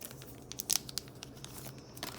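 Plastic blister packaging around a Pilot Frixion Ball Slim pen being torn open by hand, a few short crinkly rips and crackles bunched together, close and quiet.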